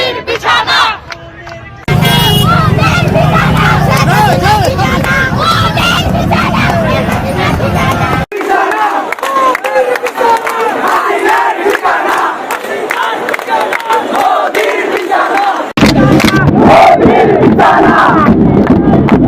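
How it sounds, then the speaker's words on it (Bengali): Students at a protest, heard as a played recording, chant slogans together in a loud, sustained crowd roar. A short quieter stretch opens it, then the massed voices carry the rest, with a brief dip near the middle. "এডা করে দেখান না কি কি স্লোগান দিছিল আমার ক্ষুদ্র ভ্রাতার ভগিনীরা"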